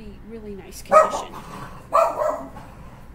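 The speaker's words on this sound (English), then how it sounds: "Sorry about my dog." A dog indoors barks twice, about a second apart, fairly close and loud, right after someone speaks briefly.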